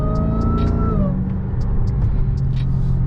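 A Dodge Hellcat's engine in manual mode rumbles close by, a falling whine gliding down as it shifts, with light ticking sounds over a steady low drone and no voices.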